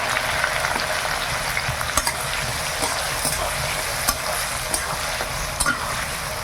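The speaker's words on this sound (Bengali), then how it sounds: "তেলটা গরম হয়ে গেছে, বরবটি আর গাজরটা আগে ভেজে নেই।" Yardlong beans and carrot fry in hot oil in a wok, giving a continuous crackling sizzle with regular clinking stirs, close and loud, no one speaking.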